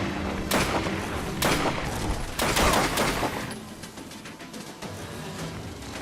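Rapid bursts of gunfire ring out in the video game Fallout London, with several sharp volleys and thudding impacts in the first half before the shooting thins out and fades quieter.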